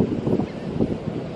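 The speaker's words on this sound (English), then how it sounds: "So windy that sand is blowing everywhere, all over me, in my mouth." Strong wind on a sandy beach blasts straight into the microphone, a loud, low, rumbling roar that surges in short gusts.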